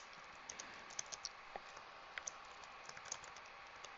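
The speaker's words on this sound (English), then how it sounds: "let me type hello" Keys clacking on a computer keyboard in short, irregular bursts, soft and close with quiet gaps between strokes, no voices.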